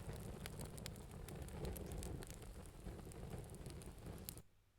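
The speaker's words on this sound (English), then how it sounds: "the sound of rain, it can be a pleasant sound" Steady rain played as a sound example in a basic acoustics lecture: dense, even hiss with small crackling drop impacts that runs continuously and cuts off abruptly near the end.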